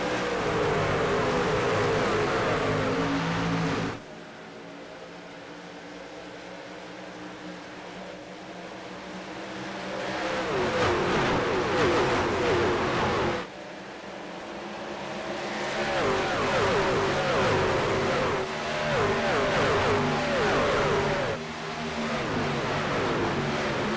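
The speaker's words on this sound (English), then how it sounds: "Green flag flies, and we're racing at Homestead in the Truck Series playoffs." Pack of NASCAR Truck Series trucks racing at Homestead in a playoff race, loud engine roar swelling and fading as trucks pass, with a sharp drop then rising surge of revving engines and broad track noise.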